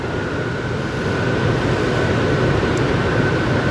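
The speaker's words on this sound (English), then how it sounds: "And then, of course, there's the train." Toy train running through a Christmas decoration display, giving a steady, continuous rumbling whir with a faint sustained hum, close and even throughout with no talk.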